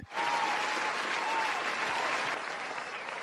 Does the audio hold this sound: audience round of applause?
yes